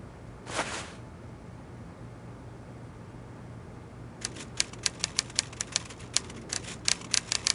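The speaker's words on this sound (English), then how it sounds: "I say, Poirot, he seems to be typing up quite a storm." Typewriter keys clatter behind a locked door, muffled and fairly faint, starting after a quiet stretch with one soft swish and then building into a rapid, uneven run of sharp strikes.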